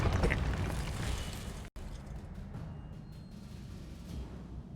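The Depulso force-push spell is cast in Hogwarts Legacy on PS5, a loud whooshing burst at the start that quickly dies away into a softer rumbling wash.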